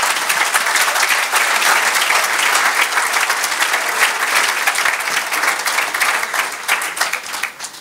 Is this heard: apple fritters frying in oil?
no